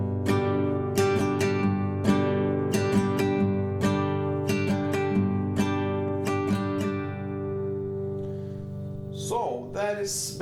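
Acoustic guitar strumming a song's chords at normal tempo, a steady bouncy run of down and up strums, close and clear, ending with a brief muted scrape of the strings.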